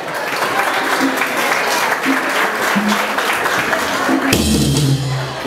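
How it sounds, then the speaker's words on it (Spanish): Audience applause at a Latin American awards ceremony for an honorable-mention winner, steady crowd clapping throughout with a host's voice briefly over it and a louder shift near the end. "Un aplauso para Amaro, por favor"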